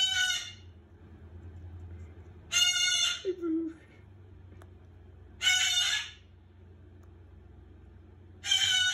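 A pet cockatoo lets out loud, harsh squawks in three or four long bursts, close by, with a brief murmur of speech between calls.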